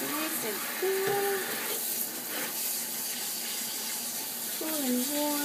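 Warm water runs steadily from a tap during a dog grooming session, a continuous wash of flowing water with people talking over it.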